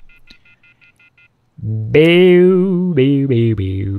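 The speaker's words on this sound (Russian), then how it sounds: "Я достал мобильник и набрал первый попавшийся номер из телефонной книги." A mobile phone dials a number in the game Everlasting Summer: seven quick, evenly spaced keypad tones beep in a row, then a loud voice begins speaking over them.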